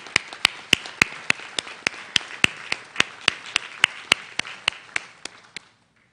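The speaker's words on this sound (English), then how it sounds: "So please join me in a thorough round of applause for this excellent group." A single person claims slowly and steadily at a university commencement, sharp evenly spaced claps about four per second, close and clear, then stopping abruptly.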